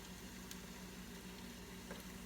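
Steady, quiet sizzling of funnel cake deep frying in hot oil, a continuous crackling hiss with a low hum underneath and no voices.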